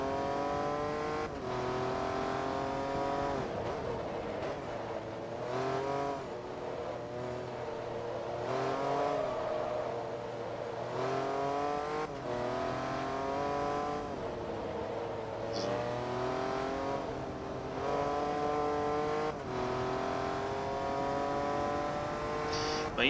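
A Jaguar race car in Forza Motorsport 2, running an S-class endurance race with a changed six-speed gearbox, revs loudly and steadily, its engine note climbing through repeated upshifts with brief dips between gears and no talk over it.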